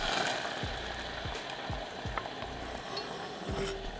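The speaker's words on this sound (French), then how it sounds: "on vient nacrer le riz rond quelques minutes" Round risotto rice toasting in olive oil in a pan for a hazelnut and Cantal risotto, a steady soft sizzle broken by a few low scraping stirs, close and alone with no talk.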